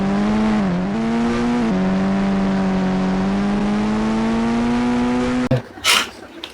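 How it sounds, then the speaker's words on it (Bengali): A toy racing car's small motor whines at a steady, close pitch for about five seconds, dipping briefly near the start, then cuts off abruptly, leaving light handling clatter. "এটা একটা racing car, high super speed কার।"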